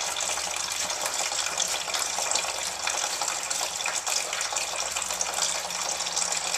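Steady gushing stream of coolant draining from a Volvo 850 radiator drain plug, a constant rushing pour without pause throughout.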